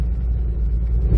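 A 1972 Hillman Super Imp Mark III being driven on a very cold day produces a steady low engine rumble inside the car, close and continuous, with a slight rise near the end.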